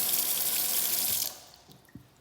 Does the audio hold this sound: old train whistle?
no